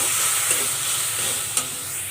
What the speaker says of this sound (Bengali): মশলাটা যাতে কড়াইতে লেগে না যায় এজন্য কিছুটা পানি দিয়ে মশলাটাকে ভালো করে কষিয়ে নেব।